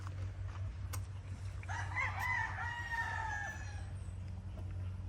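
A bullstag rooster crows once, a drawn-out, wavering call of moderate loudness over a low, steady hum, with faint bird sounds around it.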